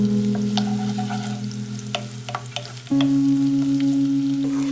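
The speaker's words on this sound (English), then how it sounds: "After 1 minute fry the ginger, then I'm going to add the chilli. Just fry 1 minute again." Chilli and ginger frying in hot oil in a pan, a steady close sizzle with a low hum and scattered small pops and clicks, the tone shifting partway through as more goes in.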